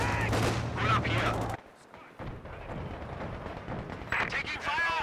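Rapid bursts of rifle and machine-gun fire crackle through a World War II battle in the strategy game Company of Heroes 2, while soldier voices shout over the shooting near the start and end.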